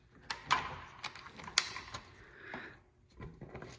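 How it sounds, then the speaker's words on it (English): Faint metallic clicks and scrapes as a bolt is threaded into place on a truck, a few sharp ticks and short ratcheting rattles spaced unevenly, close and quiet with no talking. "Let's get a bolt started though first."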